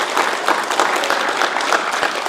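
Audience applauding steadily after a kui instrumental piece at a poetry and music evening in a club, dense clapping filling the room without a break and no voices on top.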